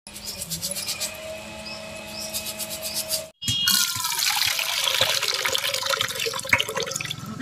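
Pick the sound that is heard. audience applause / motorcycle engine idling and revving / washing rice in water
washing rice in water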